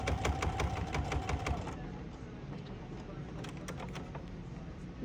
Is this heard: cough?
no